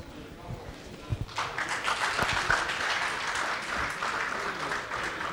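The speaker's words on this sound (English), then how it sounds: "the clapping speaks for itself" Audience applause at a national water resources council meeting, a dense steady clapping that swells in after a quiet start and holds loud, with some voices underneath.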